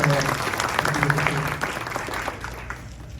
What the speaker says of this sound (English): Let's give another warm round of applause for WBC.